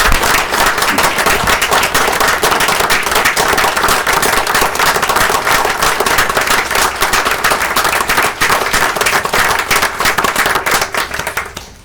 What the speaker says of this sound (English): overwhelming applause right now